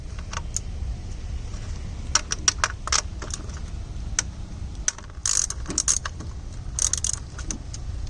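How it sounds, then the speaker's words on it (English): A ratchet with a 10mm socket works on bolts of a metal bar over the ignition coils of a Mazda 3, giving bursts of quick clicking and metallic rattles against a low engine-bay background hum. "To take these off, I'm just using a 10mm socket."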